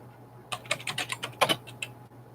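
A password is typed on a computer keyboard in a quick run of close, crisp key taps. They come in an uneven burst with short pauses, then stop, leaving a faint steady hum behind.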